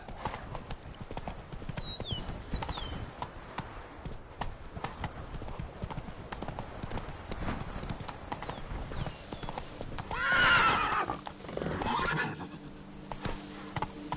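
Roach, a horse in The Witcher 3: Blood and Wine, gallops with rapid rhythmic hoofbeats and lets out a loud neigh near the end, with faint voices now and then over the hooves.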